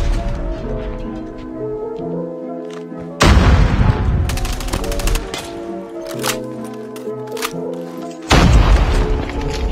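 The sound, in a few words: grenade explosion in a video game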